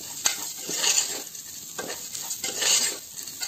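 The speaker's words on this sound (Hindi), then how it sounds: "अच्छी तरह से इसको फ्राई करिए" Prawns and onion fry in a pan while being stirred, with a faint sizzle broken by repeated metallic scrapes and clinks of a utensil against the pan at an uneven rhythm, close by and without speech.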